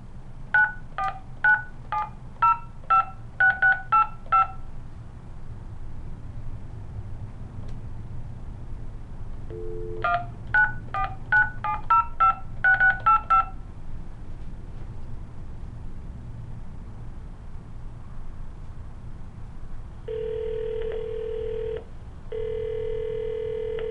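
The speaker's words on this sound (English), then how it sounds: "we'll now get a dial tone on the VOIP phone" A VOIP phone wired through a fax converter box gives out two quick runs of DTMF keypad beeps, crisp and evenly spaced, separated by a pause, then a steady pulsing dial or ring tone over faint room hum.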